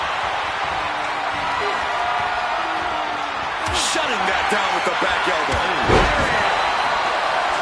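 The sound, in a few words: capacity crowd cheering at a wrestling tournament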